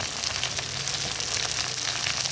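Mint, coriander leaves, green chilli, cinnamon and cloves fry in a pan for nati-style biryani, making a dense, even sizzle that holds steady and close for the whole stretch, with no talking.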